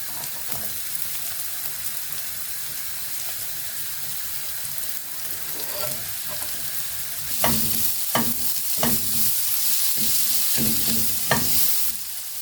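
Chopped onion and pepper sizzle in a hot pan, a steady frying hiss overlaid with several sharp scraping strokes as the vegetables are stirred, close up and without talking.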